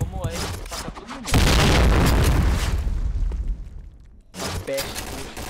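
A grenade goes off in the first-person shooter CrossFire with a loud, booming burst that rumbles for a few seconds, followed by gunfire pops and a player talking over the game sound.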